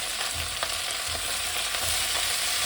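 Vegetables go into a pan where pumpkin has been frying, giving a continuous loud sizzle and crackle of hot oil with faint stirring scrapes, while cooking for a Bengali spinach curry with hilsa fish head.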